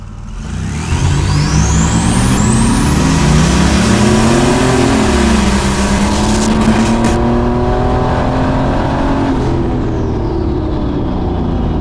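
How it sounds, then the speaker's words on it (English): A turbocharged all-wheel-drive Chevrolet S10 pickup launches hard from 0 to 60, its engine roaring loud and close as it climbs through the gears with turbo whine and whistle, then eases off near the end. "It is Draggy time. 0 to 60 launch time."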